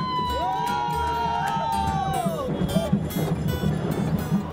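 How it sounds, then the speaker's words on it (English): Jubilant crowd cheering and shouting outdoors at a celebration of a court judgment on rights in India, a sustained loud roar of many voices with whistles and rising shouts. "Jubilant crowds cheered and rights activists were overcome with emotion"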